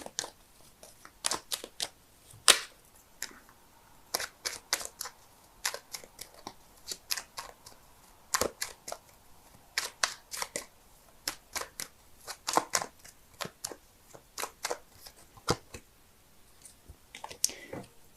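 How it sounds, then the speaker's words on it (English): Tarot cards being shuffled by hand, a long series of crisp riffling snaps and soft slides at irregular intervals, close and fairly quiet. "so give me a sec while I shuffle"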